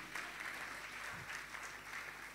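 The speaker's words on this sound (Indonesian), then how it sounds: "Tepuk tangan buat Tuhan kita" Faint, distant applause from a church congregation during a Sunday worship service, a steady soft patter lasting a couple of seconds.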